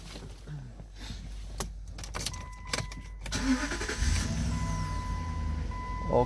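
A Jeep Commander engine cranks and catches, followed by warning chimes and a steady electronic beep as the engine settles into a low idle nearby.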